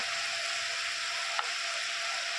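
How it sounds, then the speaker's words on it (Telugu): Wheat flour and jaggery chips fry steadily in hot oil with a bright, even sizzle. One short crackle pops out midway through. "నూనెలో వేయగానే అవి విడివిడిగా మారిపోతాయి అన్నమాట."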